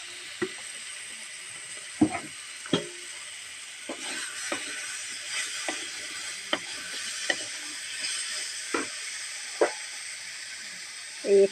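Ridge gourd slices fry in hot oil with a soft, steady sizzle, broken by scattered sharp scrapes and clicks of a spatula against the pan.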